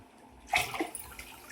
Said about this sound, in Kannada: ಇದ್ರ ಫುಲ್ಲು ನೀರು ಹಾಕಿ ಕುದಿಸೋಕೆ ಇಟ್ಕೊಂಡ್ಬಿಡೋಣಂತೆ